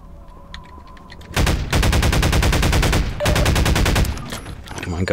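Rapid automatic pulse rifle fire from Half-Life 2, loud and close, in two long sustained bursts separated by a brief pause, with game ambience before the shooting starts.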